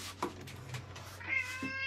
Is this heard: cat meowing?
yes